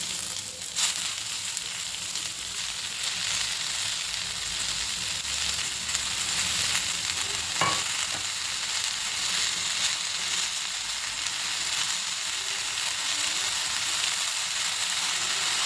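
Chopped fenugreek leaves fry in a pan with a steady, even sizzle that runs throughout, and a faint scrape from stirring comes through once near the middle.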